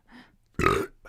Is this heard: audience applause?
no